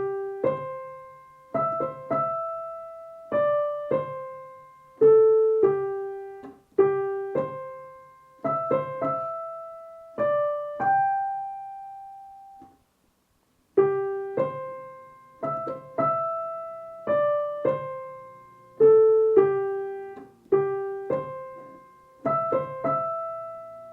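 A solo piano plays a short, moderately paced piece of detached notes and chords, pausing briefly before the opening phrase returns and plays through again.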